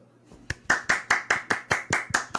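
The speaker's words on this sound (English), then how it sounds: "Claps for Ram" A small group claps in a steady, even rhythm, about nine sharp hand claps in a row, close and clear with no talk over them.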